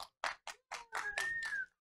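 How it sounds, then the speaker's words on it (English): A few scattered hand claps ring out at a modest distance, about half a dozen irregular claps, with a thin whistle sliding through near the end. "round of applause for our winner"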